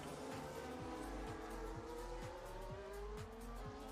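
In a racing video game at Bahrain, a car brakes hard into a hairpin with its tires locking up, producing a steady tire squeal over a rising and falling engine drone, loud and continuous with no speech.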